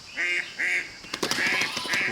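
A duck gives four nasal quacks in two pairs, close and clear, the second pair overlaid with faint clicks, played as an animal-sound quiz clip.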